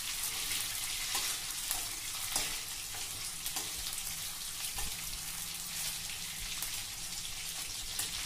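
Homemade paneer frying in hot oil for palak paneer, giving a continuous bright sizzle with scattered pops and spatters, close and loud throughout.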